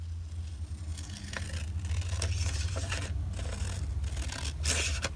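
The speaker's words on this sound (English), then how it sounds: "So I'm going to cut along these lines." Scissors snip through paper along printed lines while a journal tag is being made, a series of short, close crisp cuts and scrapes at an irregular pace over faint background hum.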